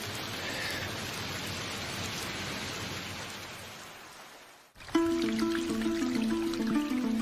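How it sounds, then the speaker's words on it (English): Heavy tropical rain pours down in a steady, dense hiss that fades briefly, then returns with a louder patter and drips on a nearby surface. "It's proper tropical rain and the first downpour in almost a week."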